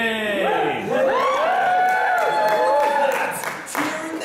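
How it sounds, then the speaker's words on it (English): A theatre audience cheers and applauds the hero in a stage performance of Peter Pan, a loud, sustained crowd sound mixed with stage voices and singing throughout. "That's cheering the hero."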